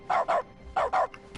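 A dog barking in a video game's dog mode in The Stanley Parable, two quick pairs of close, sharp barks separated by a short pause, with a faint yip at the end.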